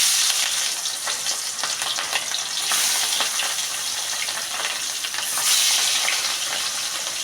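Pieces of katla fish frying in hot oil give a steady, loud, dense sizzle with crackling spatters, continuous and close, no voices over it.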